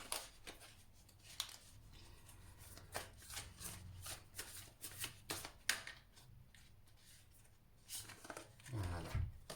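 Tarot cards being shuffled, handled and drawn at a table, with a run of soft, crisp rustles and snaps, then a louder low rumble of movement near the end.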